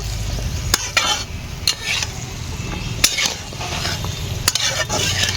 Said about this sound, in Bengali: ভালো মতন মিলিয়ে নেব।